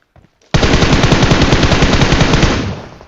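Sustained automatic gunfire in the PUBG Mobile battle royale video game, a loud, continuous rapid burst lasting over two seconds after a brief quiet lead-in, tapering off at the end.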